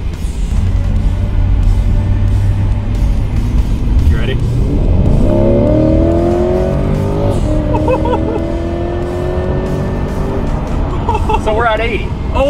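A powerful 380-horsepower car engine pulls hard through rising gear sweeps, loud and close inside the cabin, with excited talk over the roar.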